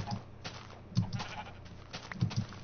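Sheep in the Minecraft video game bleat in short, separate calls, a few brief bleats spaced over a couple of seconds against a low steady background.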